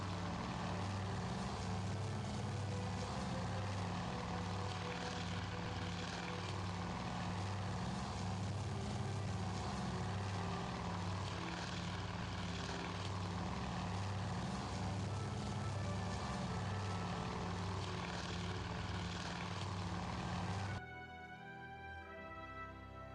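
WWII-era propeller aircraft drone steadily in the naval strategy game Task Force Admiral, a loud sustained engine roar with pulsing low tones for about twenty seconds before cutting to quieter game audio.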